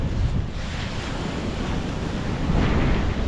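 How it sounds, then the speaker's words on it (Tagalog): Sea waves wash and churn around a small boat, a loud broadband roar of surf mixed with gusty wind buffeting the microphone, continuous with slight swells in intensity. "Para masilayan ang alon."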